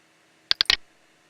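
Three quick plastic clicks from computer keyboard arrow keys being pressed, the last one doubled, close and crisp against a faint room hiss.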